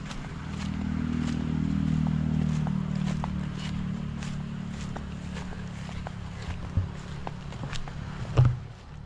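Motorcycles pass on a road a few metres from a village lot for sale, a droning engine swelling and fading early on, followed by footsteps and light scrapes close by, with no talk.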